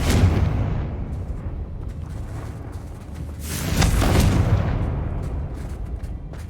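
Blasting spell explosions in the Hogwarts Legacy video game: a dense, rumbling barrage of booms that swells again midway and keeps crackling, loud and close with no talking.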